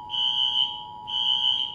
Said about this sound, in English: That alarm sounds even louder in here.